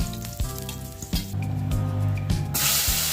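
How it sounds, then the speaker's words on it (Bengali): Eggplant and potato pieces fry in hot leftover oil from frying hilsa fish, a steady loud sizzle with sharp crackling bursts and a clatter of spatula or pan throughout. "মাছ ভাজার তেলে বেগুন ও আলুগুলো দিয়ে ভেজে নিব"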